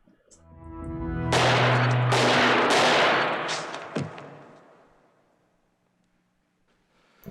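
Gunfire in a scene from the 1983 film Videodrome. Several loud, sharp blasts come in quick succession, then fade into a long, dying rumble.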